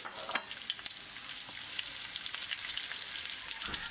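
Sichuan peppercorns and dried chili pieces stir-fried in oil in a wok with ginger and garlic slices, a steady dense sizzle with scattered crackles and a few scraping stirs, close and continuous.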